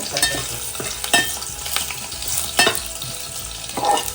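Curry leaves and garlic crackle and spit in hot oil, a loud close sizzle with sharp popping bursts scattered throughout.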